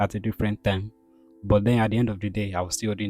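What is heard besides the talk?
No everyday noise stands out behind the speech.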